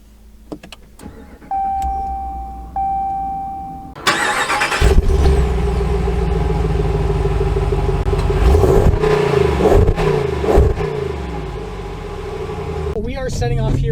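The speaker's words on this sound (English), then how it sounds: "We are setting off here in the 2019 Ram 3500" A 2019 Ram 3500 Laramie pickup truck sets off driving, its engine rising to a steady, loud rumble with a low drone from the cabin, after a few quiet clicks and a door-like thud.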